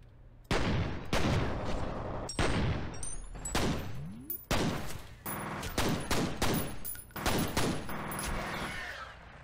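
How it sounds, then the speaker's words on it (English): Pistol gunfire in the first-person shooter F.E.A.R., sharp loud shots fired in quick bursts and irregular runs over about nine seconds, with game effects in between and no talking. "Let's switch to the pistols, because these things will take him out in a few shots."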